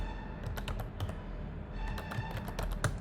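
Typing on a computer keyboard while building a portfolio website, with steady close clicks in bursts of quick keystrokes and brief pauses, no voice.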